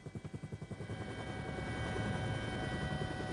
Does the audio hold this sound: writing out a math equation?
no